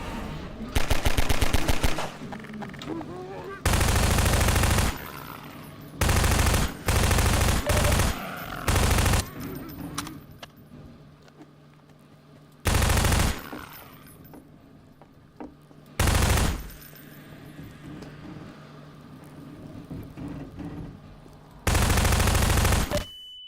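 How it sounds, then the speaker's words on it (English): Shotgun blasts in the Half-Life 2 video game ring out in loud, separate bursts spread across about twenty seconds, with quieter game ambience and faint talk in the gaps. "I just love shotgun in zombie games."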